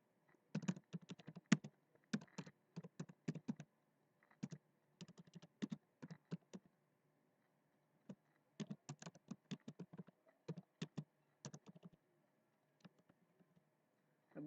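Keys clatter on a computer keyboard while a Facebook post is written, quick bursts of close, light clicks broken by short pauses, quiet and with no voices.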